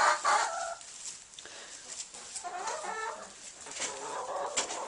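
Several hens cluck and chatter inside a chicken coop, close and fairly loud, with overlapping calls rising and falling over a few seconds and no talking.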